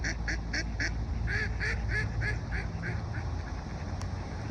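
Ducks outdoors beside a cold plunge give a run of repeated quacks in quick rhythmic bursts, fairly close and moderately loud, with no voices.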